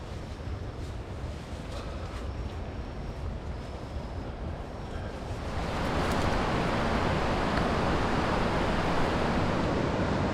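A river flowing near its mouth in a mountain forest, a steady broadband rush of water that grows noticeably louder and closer about halfway through, with no talking.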